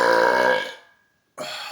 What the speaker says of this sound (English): absolutely love it when my burps sound like that